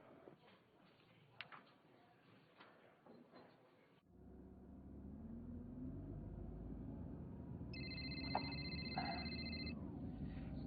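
A telephone rings after a stretch of quieter sounds, the ring heard as clear repeated tones over a loud steady rumble, with no voices in the background.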